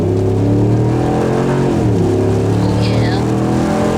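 A 2016 Ram truck fitted with a Flowmaster Outlaw direct-fit muffler accelerating, its loud, close exhaust droning with a strong rumble that shifts pitch partway through as the revs change.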